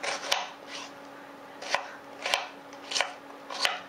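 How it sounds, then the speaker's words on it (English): A knife chops through a chunk of onion on a cutting board, making five or six sharp, close knocks at an uneven pace with faint slicing scrapes between them. "the first thing we're going to do is just cut a chunk of onion off"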